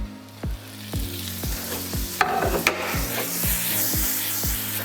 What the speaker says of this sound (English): add your tomatoes and the greens